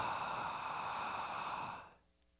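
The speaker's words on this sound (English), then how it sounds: "if you were to make a surprise gasping sound with your mouth like this" Slow, deep gasping inhale through an open mouth, one long breath held steady for about two seconds, then cut off into quiet, close and fairly soft.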